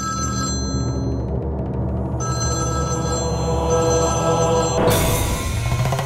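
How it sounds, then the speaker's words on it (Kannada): A telephone rings steadily and loudly throughout, with a repeating electronic ringtone and no voices. "ಯಾಕೆ ಈ ಹುಡುಗಿ ಪದೇ ಪದೇ ಪದೇ ಪದೇ ಫೋನ್ ಮಾಡ್ತಿದ್ದಾಳೆ?"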